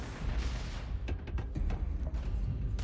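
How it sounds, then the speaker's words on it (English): Several sharp gunshots crack out in quick, irregular succession over a low rumbling background, fairly distant and muffled, in the video game Starfield. "I'm hearing gunfire"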